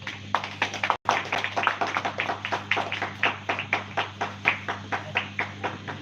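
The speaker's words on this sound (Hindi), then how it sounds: "आप सब लोग ताली बजाना है" An audience claps steadily in rhythm at a live stage program, a sustained run of fairly close, even hand claps with a steady hum beneath.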